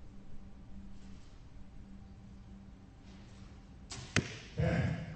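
A compound archery arrow is released and strikes the target at an indoor championship, a sharp snap followed by a solid thud against a quiet hall background.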